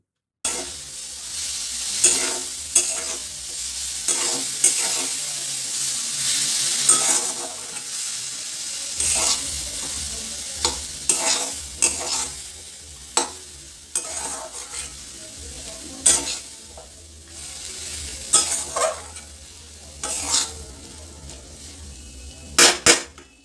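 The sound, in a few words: stir-frying potatoes and drumstick flowers in a wok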